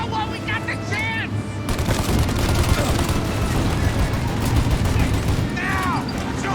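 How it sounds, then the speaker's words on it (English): Sustained gunfire in a Mafia: Definitive Edition shootout, loud rapid volleys crackling continuously for several seconds, with shouted voices audible in the mix. "Now! Shoot the gun!"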